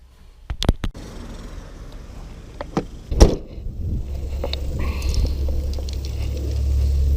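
A few sharp knocks and taps give way to low, rumbling wind buffeting the microphone during a fishing outing with a vintage rod and modern reel, growing steadily louder toward the end.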